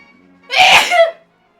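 One loud, close human sneeze, sharp and breathy, lasting about half a second, with quiet before and after.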